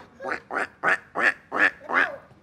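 A run of six nasal quacks at an even pace, fairly close and loud, each one short and raspy.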